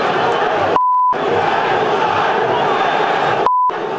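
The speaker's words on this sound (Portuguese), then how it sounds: "parte da torcida vascaína passou a xingar o técnico Rafael Paiva." A Vasco football crowd in a stadium roars and chants angrily at the coach right after a goal. The dense, sustained crowd noise stays loud throughout and is cut twice by censor beeps.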